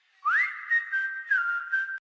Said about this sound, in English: the melody right here in the whistle